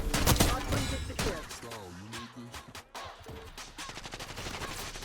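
ASG 89 shotgun firing in Black Ops 6 during a hardpoint match: several punchy, loud blasts in quick succession among other gunfire, with someone talking at a moderate level beneath them.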